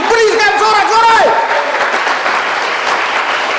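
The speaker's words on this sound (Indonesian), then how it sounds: "Berikan sorak-sorai." A congregation at a revival service in Pekanbaru, Riau, bursts into loud, sustained cheering and applause that fills the space right after a single voice calls out.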